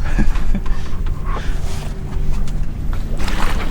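A sailboat under sail with its engine off along the UK Jurassic coast: steady wind and water rushing against the hull, broadband and continuous with some splashing swells, no talking.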